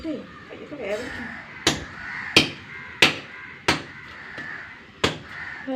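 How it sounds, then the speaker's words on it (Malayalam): Firewood being chopped outdoors, with six sharp, loud blows landing at a steady rhythm of roughly one every second, while crows caw in the background. "വിറക് വെട്ടുകയാണ്."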